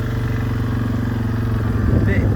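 Suzuki KingQuad 500 ATV engine straining under load, a steady close mid-pitched motor drone that holds throughout with a slight rise near the end.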